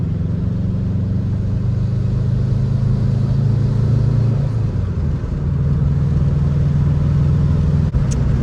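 A high-mileage Subaru WRX bugeye with stock downpipe and aftermarket exhaust drones steadily while driving, a loud continuous low rumble from inside the car with a slight dip in pitch midway.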